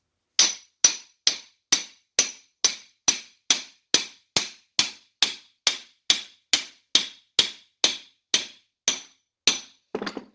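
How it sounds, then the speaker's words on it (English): Repeated hammer blows drive a bearing through the shaft of an Argo transmission during a rebuild: about twenty sharp metallic strikes at a steady, even rhythm, close and loud, with no talking. "That won't just slide off, so I'll probably just going to hammer this through."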